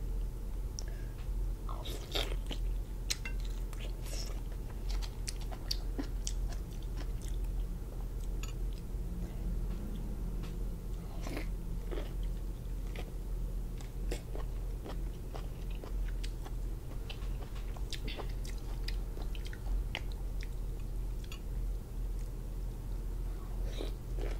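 Someone bites and chews Canadian lobster shell and meat close to the microphone, making scattered sharp cracks and crunches over a steady low hum for a long stretch.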